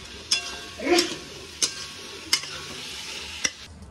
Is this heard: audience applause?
no